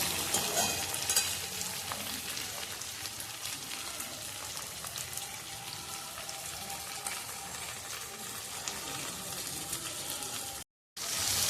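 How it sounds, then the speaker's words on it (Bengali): Tomatoes frying in a pan give a continuous close sizzle with soft stirring scrapes, steady throughout apart from a brief silent dropout near the end. "এবারে টমেটোগুলো একটু নাড়াচাড়া করে সামান্য ছাঁচলে নেব।"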